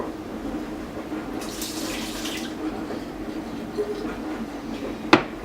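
Tap water running into a saucepan in a home kitchen, a steady hiss of flowing water with a short clatter near the end.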